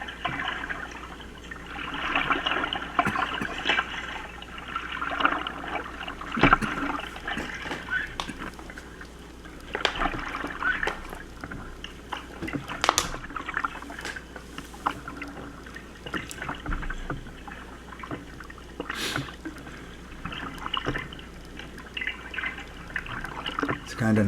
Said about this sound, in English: It's kind of nice, just the sound of the water.